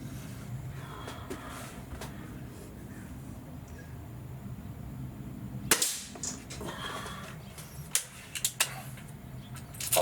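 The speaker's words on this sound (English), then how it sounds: "All right, let's shoot 5 shots and see how well this groups." Gamo Whisper Fusion air rifle firing: one sharp, close crack lands midway, followed by a few lighter clicks over quiet outdoor background, with no talking.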